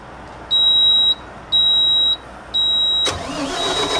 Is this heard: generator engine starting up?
yes